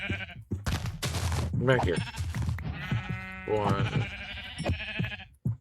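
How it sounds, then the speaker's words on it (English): Sheep bleat in the video game Minecraft, several short bleats over a few seconds mixed in with frequent talking from a player close to the microphone. "Oh my god, a lot of sheep."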